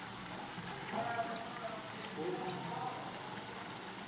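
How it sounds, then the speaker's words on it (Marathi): Moringa drumstick pods are dropped into a pan of hot spices, giving a faint, hissing sizzle that swells briefly twice over a few seconds. "चला शेंगा टाकून घेऊया आपण त्याच्यात."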